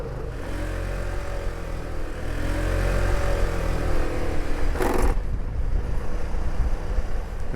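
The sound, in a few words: scooter engine while riding on backroads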